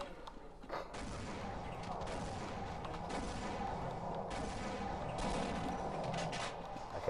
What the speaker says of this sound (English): So I throw grenades here.